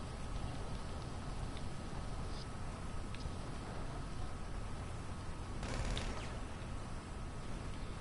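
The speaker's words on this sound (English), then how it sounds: "it's raining outside and it's raining in the game" Steady rain falls in a video game, a continuous broadband hiss with faint ticking drops, and a brief louder rush of rain about two-thirds of the way through.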